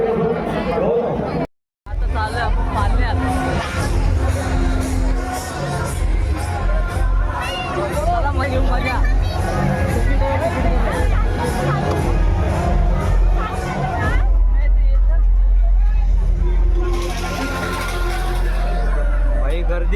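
A dense festival crowd at the Agri Mahotsav fills the air with continuous overlapping chatter and hubbub. A heavy low rumble swells in during the last few seconds, and many voices talk throughout.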